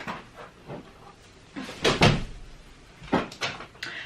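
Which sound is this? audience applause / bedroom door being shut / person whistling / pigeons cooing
bedroom door being shut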